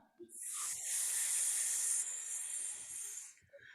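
A long, airy hiss imitating a snake rises and holds for a few seconds, made by voices, with faint soft sounds around it.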